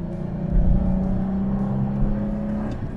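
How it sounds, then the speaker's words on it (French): The engine of a 1991 Chrysler Imperial revs up as the car accelerates. It gives a continuous, moderately loud hum and whir that swells slightly and holds steady, with no talk over it. "Le moteur prend ses tours, il se met à gueuler, la sonorité reste agréable."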